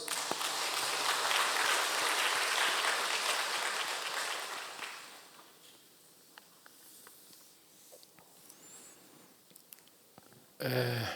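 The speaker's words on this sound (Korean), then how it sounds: "다시 영광의 박수." Church congregation applauding during a Sunday service, dense and loud for about five seconds, then tapering off into a quiet room with scattered faint sounds, before a brief burst returns at the end.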